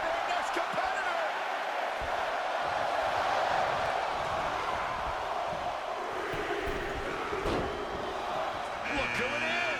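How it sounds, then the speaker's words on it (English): A WWE 2K22 wrestling arena crowd roars in a sustained, loud wash of cheering, with thuds of in-ring impacts and a commentator talking over it. "Just listen to the crowd."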